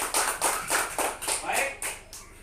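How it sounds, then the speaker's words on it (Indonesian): Children clap their hands in a rhythmic pattern during a home-based lesson: about eight crisp, evenly spaced claps, close and moderately loud. "tepuk tangan untuk kita semua"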